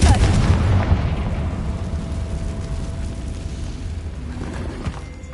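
Confringo spell blast in the video game Hogwarts Legacy, a heavy rumbling explosion that bursts loud at the start and slowly decays into a fading low roar with no talk over it.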